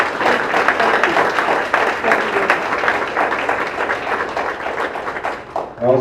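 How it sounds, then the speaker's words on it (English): Audience at a guest-speaker evening with the Speaker of the Kansas House applauds steadily for several seconds, a dense, even wash of clapping from a room full of people before it tapers off. "Let's give a big round of applause to Speaker Hawkins for coming."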